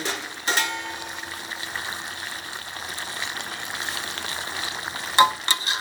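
A handful of fennel leaves going into a simmering spicy giant catfish curry with fresh bamboo shoots, a soft steady bubbling sizzle framed by a brief clatter at the start and a couple of light knocks near the end.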